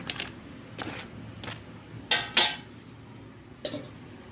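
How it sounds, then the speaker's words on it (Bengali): Crispy fried pumpkin-leaf pakoras stuffed with banana flower are handled close up, giving a handful of dry, crackly clicks and taps, with two louder crunchy snaps in quick succession midway. "এই দেখুন বন্ধুরা কতটা ক্রিসপি হয়েছে, আপনারা শব্দ শুনেই নিশ্চয়ই বুঝতে পারছেন"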